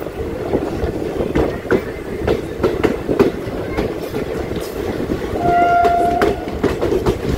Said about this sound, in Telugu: రాయచూర్ పర్బానీకి వెళ్ళే ట్రైన్ అండి ఇది